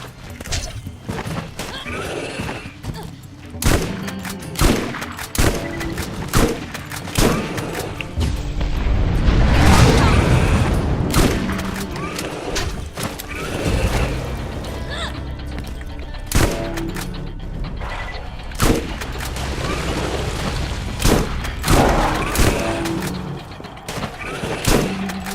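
Repeated gunfire from a Dahl weapon in the video game Borderlands, sharp shots and bursts popping in uneven clusters with booms and a heavy explosive swell midway, loud and close.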